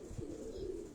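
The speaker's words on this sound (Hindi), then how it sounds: "तो ये वो कबूतर है दोस्तों।" A pigeon from a Lahore fancier's loft, bred by the late Ustad Ikhlaq Ahmad Khan, coos in a low, steady murmur at close range, with no other sounds around it.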